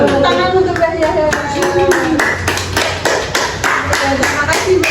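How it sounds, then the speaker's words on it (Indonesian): A class of children claps together in quick, steady rhythmic beats for a few seconds, close and fairly loud, with voices speaking over it. "Beri tepuk tangan untuk Mbak Yahya."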